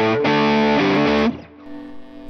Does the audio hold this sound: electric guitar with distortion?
yes